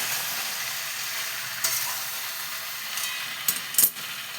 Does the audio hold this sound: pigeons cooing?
no